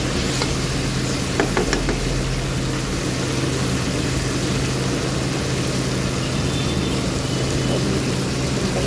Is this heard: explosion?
no